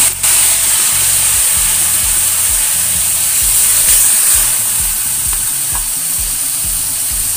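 Water poured into a hot frying pan of chayote and mixed vegetables cooking in coconut milk, a loud, close, continuous sizzle and hiss that holds steady with a little bubbling underneath.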